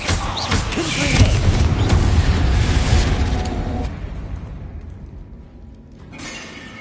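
A Confringo blasting spell in Hogwarts Legacy goes off as a loud, close explosion with a roaring burst and crackling debris, then fades into a lingering rumble that tails off over several seconds.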